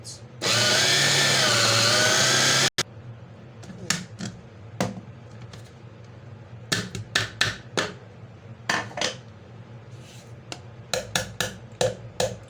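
A food processor whirs in one loud, steady burst of about two seconds while blending minced meat with onion and spices, followed by scattered clicks and knocks from handling.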